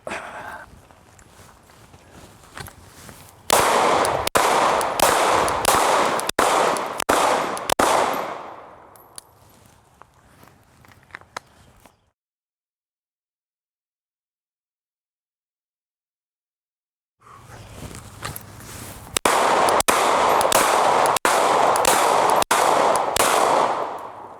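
Rapid gunfire from target shooting rings out in two loud, dense strings of shots, close and sharp. A lull of about five seconds of silence separates the volleys.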